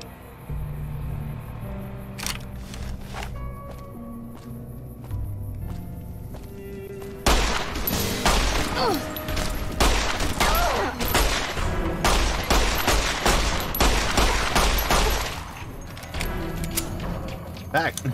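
Dense bursts of gunfire from Fallout: New Vegas fill a long stretch, a quieter opening giving way to loud, rapid, overlapping shots and impacts with a voice talking throughout.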